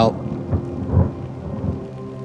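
A heavy thunderstorm with steady rain pouring down and deep thunder rumbling across the whole stretch, swelling to a louder roll near the middle, with no voices.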